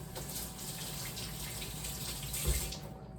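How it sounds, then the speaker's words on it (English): A cup rinsed under a running kitchen tap, water hissing steadily with a brief splash and clunk near the end. "Rinse off my cup really quick."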